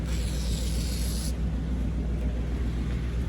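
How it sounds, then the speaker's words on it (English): A short hiss of WD-40 aerosol lubricant sprayed onto a sliding window track, lasting about a second, then stopping, over a steady low rumble of background noise. "you can just try to spray WD-40 here"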